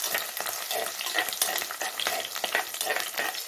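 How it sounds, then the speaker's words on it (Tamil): Garlic sautéing in hot oil for a village-style broad bean kara kuzhambu, with a continuous bright sizzle, crackling bursts and scraping stirring strokes close by, no voices. "இது வந்து கொஞ்சம் வதங்கி கொஞ்சம் கலர் மாதிரி வரைக்கும்"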